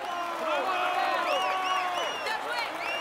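A crowd applauds and cheers a cyclist in the Tour de France 2016 video game on PS4, with a steady wash of clapping and bright whistles and whoops rising and falling.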